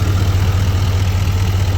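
A stock 2018 Duramax L5P diesel engine in a 2500 HD pickup idles with a steady, low, even rumble and constant hum, close and continuous with no talking.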